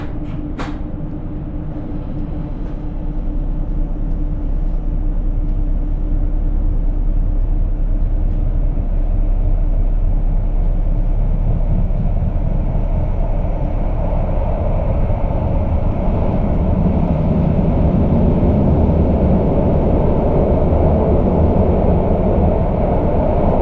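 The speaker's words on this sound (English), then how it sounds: "now we can also listen to the sound of this train." A Stadtbahn train runs on the Kraich Valley Railway, heard from on board: a steady, loud rolling rumble and hum from the wheels and motors, with no talk and a brief click near the start.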